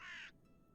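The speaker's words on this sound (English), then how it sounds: "You can hear a crow in the background there." A single crow caw from Bearded Reedling footage, harsh and fairly loud at first, then cutting off into quiet background.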